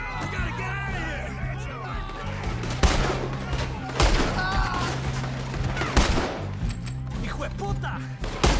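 Video game gunfight with rapid bursts of gunfire and heavy shots cracking repeatedly, loud and close, with a few sharp peaks over a continuous battle din and game music.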